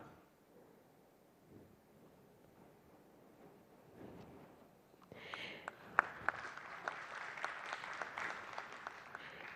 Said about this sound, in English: that would have to be the loudest round of applause I've ever heard